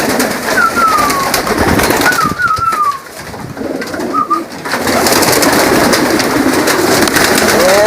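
Pigeons coo close by in a loft, soft rolling calls repeating several times over a constant background hum.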